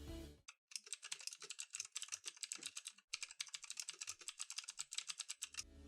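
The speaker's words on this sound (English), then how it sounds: "it's a really satisfying click whenever you press a key down" Rapid typing on a cheap mechanical keyboard, with loud, crisp individual key clicks in quick bursts, close up and dry, briefly pausing before resuming an even clattering rhythm.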